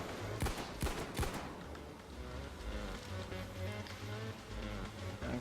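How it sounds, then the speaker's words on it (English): Gunfire from the video game Payday 2, several sharp close shots in quick succession followed by scattered fainter bursts over a dense ambient game soundtrack. "They're shooting... now."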